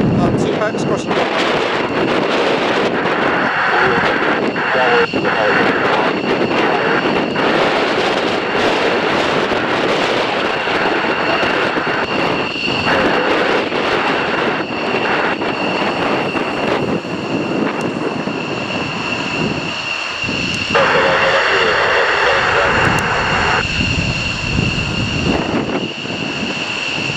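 Four F-15 fighter jets from RAF Lakenheath roar on departure from RAF Mildenhall. Loud, sustained engine thunder and whine fill the air, with surging tones as they climb away, and radio chatter can be heard underneath.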